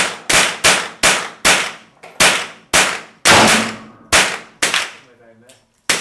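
A Buckmark .22 long-barrelled pistol fitted with a red dot sight fires about ten sharp, loud shots in quick succession, each crack ringing briefly before the next, with no talking.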